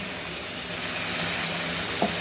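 Loud hiss and sizzle of water from a pressure cooker poured into a hot frying pan of oil with beans and tomato, a dense steady crackle with a small splash near the end.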